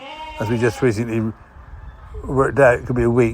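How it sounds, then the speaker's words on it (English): Sheep bleat in long, wavering cries while someone talks nearby, the bleats overlapping and following his speech in two clusters. "You can hear the sheep in the background."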